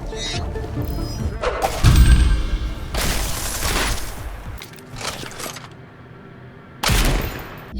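Shotgun blasts in a first-person shooter video game, a few loud booming shots followed by reload clicks and echoing tails amid game sound effects.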